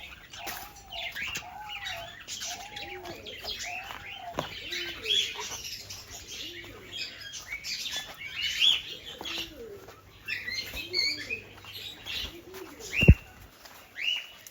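Pigeons on a farm coo in soft, repeated low calls while being fed, with wings flapping and light chirps around them, and one sharp click near the end.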